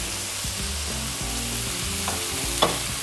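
Minced meat browns in a hot pan for spaghetti bolognese, giving a loud, steady frying sizzle with a couple of faint stirring scrapes and no voices.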